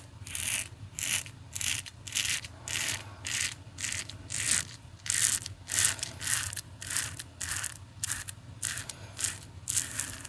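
An ETHOS Kailua razor shaves ten days of beard growth in quick, rhythmic strokes, each a close, crisp scratchy rasp with brief gaps between passes and no talk.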